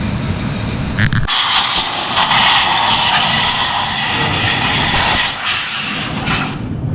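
Compressed air blasts into a Polaris Ranger clutch as a loud, continuous hiss that starts abruptly and holds steady for several seconds, close to the nozzle.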